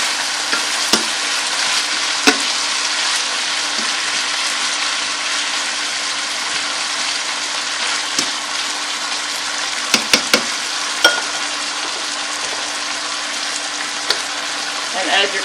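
Chicken with frozen peas and carrots sizzles steadily in a pan for keto cauliflower fried rice, a dense continuous fry with occasional sharp pops and utensil clicks, and no talking.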